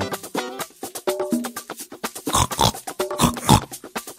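Cartoon pig oinking and grunting in a series of loud, close, rhythmic snorts that come in quick bursts, voiced in an animated fairy tale.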